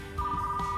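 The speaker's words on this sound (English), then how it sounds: "Let's get the phone." A telephone rings in a retro 1990s video store, a steady electronic tone starting after a brief quiet moment and holding alone, fairly close and moderately loud.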